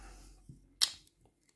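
Victorinox Wenger scissors make a single crisp snip through thin sewing thread: one sharp, close click in an otherwise quiet room.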